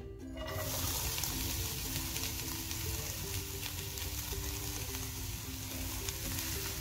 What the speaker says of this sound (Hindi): ये गरम हो गया है। अब इसमें हम प्याज डालेंगे।